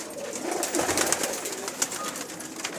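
Pigeons coo softly in a loft, low murmuring calls repeating over a steady bed of faint background noise, with no voices.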